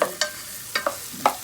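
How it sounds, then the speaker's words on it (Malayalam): Tomato, curry leaves, ginger, green chillies and garlic sautéing in a pan for an egg curry made without coconut, with a few sharp scraping stirs over a faint background sizzle. "ഇതെല്ലാം ഇട്ടിട്ട് ഇങ്ങനെ വഴറ്റുക."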